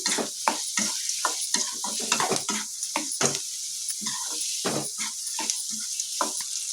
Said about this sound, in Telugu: ఎర్రగడ్డలు చాలా వేగిపోకనే కారంతో పాటు వేగుతాయి